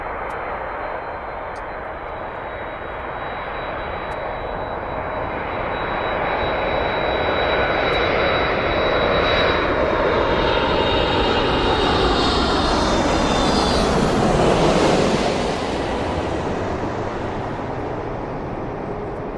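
A propeller aircraft drones overhead, its engine roar building from a distance to a loud, close pass before slowly fading again, with no talk over it.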